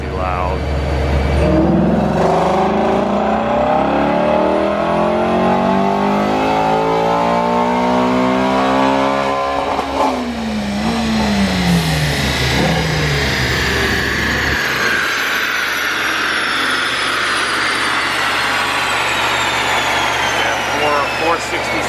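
Ford Mustang GT350 engine revving hard on a DynoJet dyno, a loud sustained pull with rising engine pitch that sweeps up through the gears, then drops and settles into a rumbling idle near the end.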